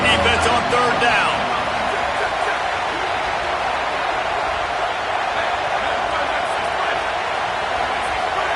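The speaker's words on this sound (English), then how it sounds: "Decibels rising as the crowd gets behind this defense on 3rd down" Football stadium crowd cheering on third down, a steady loud roar of massed voices holding through the whole stretch, slightly louder at the very start, with a commentator's voice talking over it.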